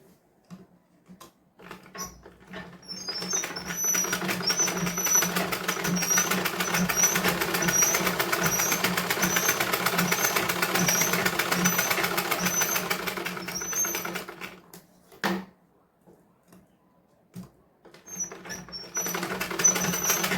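A sewing machine stitches a blouse up close: a few tentative starts, then a long steady rattling run that stops, followed by short intermittent bursts, with no talking.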